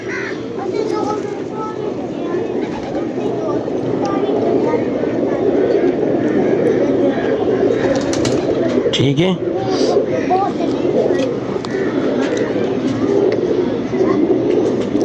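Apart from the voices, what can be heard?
pigeons cooing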